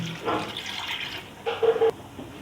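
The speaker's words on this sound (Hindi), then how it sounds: "और 1 गिलास पानी डालूँगी" A glass of water is poured over mint leaves and green cardamom for a mint lemonade, two short gurgling splashes close by, with the second one louder, and no talk.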